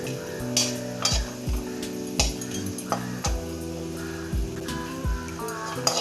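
Idli podi ingredients dry-roast in a pan over a medium flame, with a spoon scraping and knocking against the pan in regular strokes over a steady tonal background.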